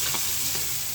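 Pabda fish frying in a hot pan before being cooked down into a spiced bhuna, giving a steady, close crackling sizzle with faint stirring scrapes and no voices.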